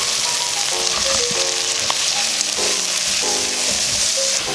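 Chicken gizzards sizzle and crackle as they fry in a pan for homemade creamy sopas, with dense, close frying noise and frequent stirring scrapes running continuously throughout.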